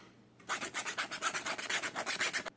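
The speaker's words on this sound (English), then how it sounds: "the inside of that band has been filed nice and smooth and rounded off" Metal file rasping back and forth inside a coin ring band, about a dozen quick, even strokes in a steady rhythm, close and clear with no talking.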